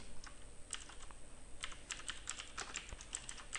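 Code being typed on a computer keyboard: quiet, quick clicking keystrokes in uneven bursts, close by but low in level over faint background hiss, with no talking.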